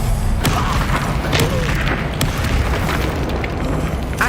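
Spells such as Incendio go off in a fire-filled magic battle in the video game Hogwarts Legacy, with loud booming blasts and sharp bursts over a constant roar.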